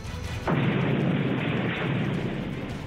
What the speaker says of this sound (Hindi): थोड़ी देर बाद ही वहां पर जोरदार धमाका हुआ